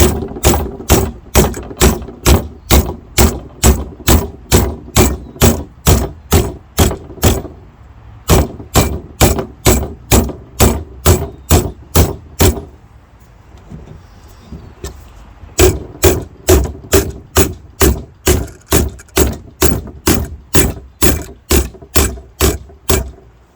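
Metal is hammered by hand while forming a GT6 airbox. Loud, ringing blows land close by in a quick, even rhythm, stop for a few seconds, then resume at the same brisk pace.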